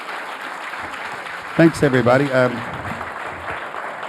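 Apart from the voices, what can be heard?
audience applause at book talk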